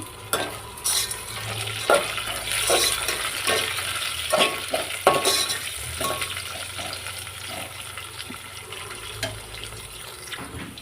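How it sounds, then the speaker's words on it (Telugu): Green peas frying in a pan for bagara rice, a moderate continuous sizzle with intermittent stirring scrapes and clinks of a spoon, close by and without talking. "ఈ విధంగా ఫ్రై కావాలి"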